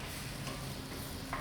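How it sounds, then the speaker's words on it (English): Chopped onion frying with curry powder in a pan, a faint, steady sizzle with soft scraping from stirring, quiet and close. "We're just slightly frying that in the curry powder and the onion."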